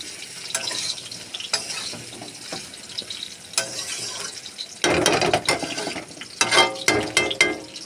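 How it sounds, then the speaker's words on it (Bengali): Soybean chunks being stirred and fried with spices in a pan, making repeated scraping, clattering stirs with a soft sizzle underneath, the strokes growing busier and louder toward the end. "মশলার সাথে ভালো করে সয়াবিনটা কষিয়ে নেব"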